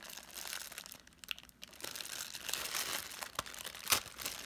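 Plastic lid being ripped off a recycled wipes container, a continuous crinkling and crunching tear with a sharper snap near the end, close and fairly quiet, no talking.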